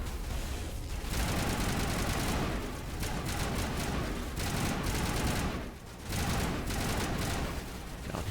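Sustained gunfire from Mass Effect Legendary Edition combat, dense rapid shots running almost continuously with brief pauses, busy and loud throughout.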